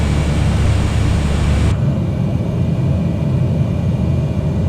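An aircraft engine drones steadily in Microsoft Flight Simulator, a loud, close, continuous hum that drops abruptly in brightness partway through as the throttle is pulled back, then holds at a lower, duller tone.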